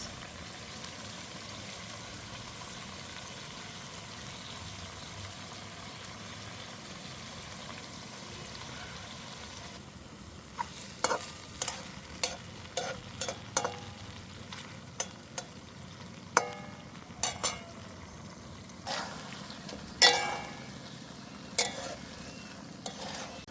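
Chicken chukka frying in a pan outdoors in a village, with tomato sauce just added: an irregular series of close stirring scrapes and clatters over a soft sizzle, quiet at first and then busier.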